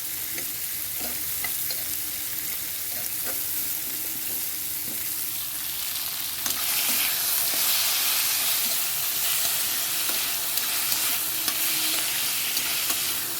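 Onions fry in a pan with a pinch of turmeric while being stirred, a continuous crackling sizzle that grows louder and brighter midway, with occasional scraping taps.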